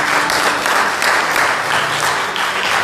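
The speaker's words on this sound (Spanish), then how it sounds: "Denle un aplauso fuerte a Dios." A church congregation claps loudly for God at the close of a Spanish-language service, a thick, continuous burst of many hands at close range.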